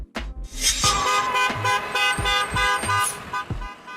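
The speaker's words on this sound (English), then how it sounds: "School bus." A school bus horn honks in a series of loud, close, tonal blasts, repeated in short bursts with brief gaps between them.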